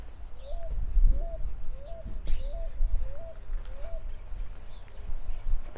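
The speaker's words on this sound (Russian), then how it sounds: "Птички летают." Birds call in a palm-lined garden in Argentina, a repeated short two-note coo or chirp sounding about twice per second over a steady murmur of outdoor background noise.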